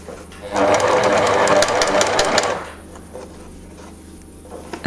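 A sewing machine stitches shirring rows with elastic thread on straight fabric, running loud and continuous for about two seconds before stopping, followed by quieter handling sounds.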